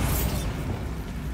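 Bombarda spell explosion in the wizarding game Hogwarts Legacy, a single loud close blast that rumbles and fades within about a second.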